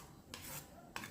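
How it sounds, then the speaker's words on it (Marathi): A spoon stirring curd chutney with salt, sugar and crushed peanuts in a bowl: two soft, close scraping swishes, quiet and alone. "आणि हे मिक्स करून घेऊयात"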